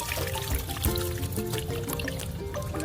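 Homemade organic liquid fertilizer strained and poured, a close, continuous trickling and splashing of liquid with no voices.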